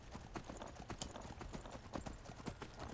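A horse in the video game Skyrim trots along with steady, rhythmic clip-clop hoofbeats, fairly faint and continuous, with no talk over them.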